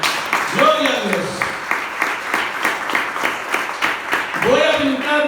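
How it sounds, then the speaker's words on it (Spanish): A church congregation applauds continuously, a dense patter of clapping from many hands, while a voice speaks over it. "Den un aplauso al Señor Jesús"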